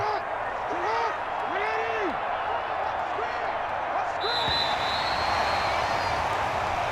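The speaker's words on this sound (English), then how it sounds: "And the home crowd applauding." Home crowd at an NFL football game between the Indianapolis Colts and Baltimore Ravens in Baltimore, a steady wash of applause and crowd noise with a commentator talking over it.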